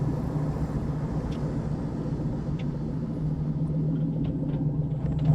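A 2003 Ford Mach 1 with a 4.6 V8 and five-speed manual drives on the road. Its engine gives a steady, low rumble heard from inside the cabin, with no voices.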